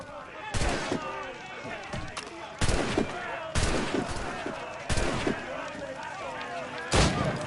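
Gunshots in the Assassin's Creed Rogue video game: several loud, sharp musket-like cracks spaced a second or so apart over a busy battle backdrop of shouts and clatter.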